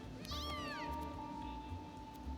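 Cat in the roguelike game Mewgenics lets out a single drawn-out, wavering meow close up, over a low steady game-music background, with nothing else prominent after it.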